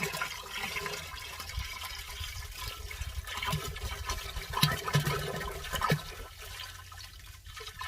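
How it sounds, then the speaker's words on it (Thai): Fermented starter culture liquid pours into a 200-litre tank as a steady, continuous splashing gush of water, close and moderately loud throughout. "ก็เทหัวเชื้อเข้าไป"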